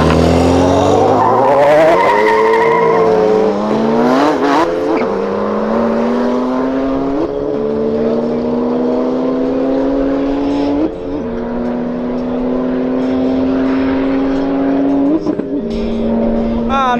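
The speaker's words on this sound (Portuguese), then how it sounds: "ver o carro na pista" A Porsche tears down a drag-racing track, its engine climbing through rising gear pulls with sharp shift breaks while tires squeal loudly at the launch, the roar staying loud and close throughout.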